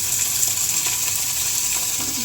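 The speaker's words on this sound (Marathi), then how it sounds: "कढीपत्ता तळतळला की टाकायचा आपला कांदा" Onion goes into hot oil with curry leaves in a pan, giving a steady close sizzle and crackle, with light stirring sounds.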